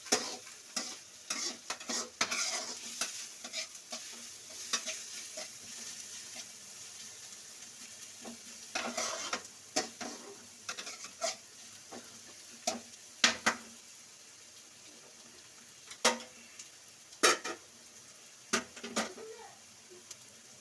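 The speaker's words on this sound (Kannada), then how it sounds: "ಇಲ್ಲಿ ನನ್ನ ಹಸ್ಬೆಂಡು ಫಿಶ್ದು ಮೊಟ್ಟೆ ಫ್ರೈ ಮಾಡ್ತಾ ಇದ್ದಾರೆ." Fish eggs frying in a pan with onion and green chilli, with steady sizzling and frequent sharp scraping stirs from a spatula close by, no talking.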